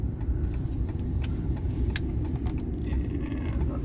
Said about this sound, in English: And traffic coming.